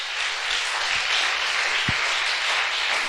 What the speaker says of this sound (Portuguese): Então vamos aplaudir o nome do Senhor.